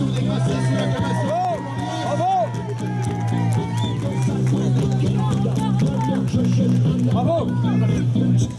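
A crowd cheers and calls out for a returning sculling pair at a 2018 world championship selection, a steady roar of voices and whoops with music-like tones running beneath throughout.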